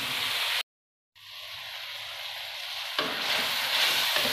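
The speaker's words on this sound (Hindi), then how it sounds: "यहाँ पे हमने टमाटर अच्छे से गला लेने हैं" Tomatoes fry and are stirred in a pan for moong dal, a loud dense sizzle that cuts out briefly, then returns and swells again with stirring scrapes, and no speech.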